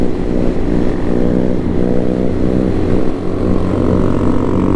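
Motorcycle engine held in a steady drone while the rider pulls a wheelie at about 43 mph, loud and close with a constant buzzing tone.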